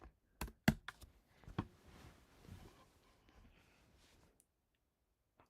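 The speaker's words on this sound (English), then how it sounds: "Oh, I'm typing the answer." Typing on a computer keyboard during a live game session, a burst of close sharp key clicks at the start, then softer scattered taps fading into quiet.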